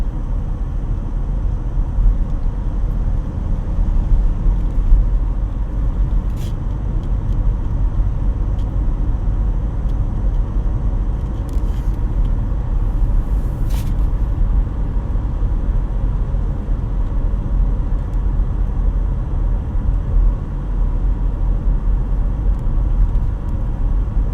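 Car driving through the Dr. Phillips neighborhood in Orlando, a steady loud interior rumble of engine and road noise with no breaks.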